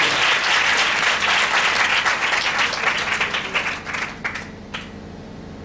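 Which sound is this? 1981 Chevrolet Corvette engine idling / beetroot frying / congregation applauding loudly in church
congregation applauding loudly in church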